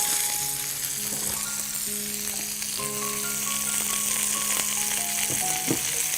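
Turkish-style chicken kebab fries in a pan with a steady, bright sizzle, joined by scattered clinks and faint tonal hums in the background, and no one speaking.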